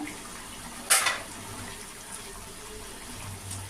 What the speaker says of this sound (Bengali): ঝোল ফুটে গেছে এবার আমার বড়াগুলো দিয়ে দেবো এই দিয়ে দিলাম